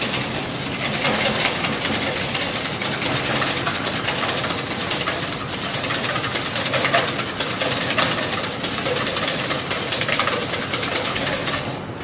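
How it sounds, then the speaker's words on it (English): An electric mixer whisks eggs and sugar for a carrot cake batter as sugar is added, giving a continuous, fairly loud whirring motor drone with slight wavering in pitch and strength. "Add the sugar gradually while the whisking continues."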